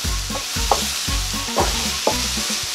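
Beef stir-fry vegetables (peppers, onion, garlic, scallions) sizzle in a hot pan with green seasoning. A loud, close hiss is broken by rhythmic stirring strokes roughly every two-thirds of a second.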